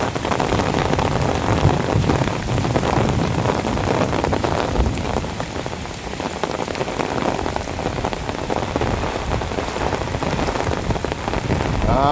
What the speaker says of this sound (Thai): ฝนตกแล้วนะครับ ตอนนี้ชุ่มฉ่ ำสามสิบนาทีไปแล้วนะครับ